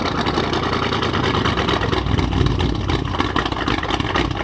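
A loud, rough Audi S7 engine idles and revs through a straight exhaust, a steady throaty rumble with uneven pulsing; the car is a salvage-auction car with a failed, smoking turbo.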